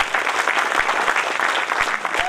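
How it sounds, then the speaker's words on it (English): An audience claps steadily at a talk on India's founder membership in ISO and IEC, a dense sustained burst of many hands filling the room at close range, with no voices. "Clap here, please."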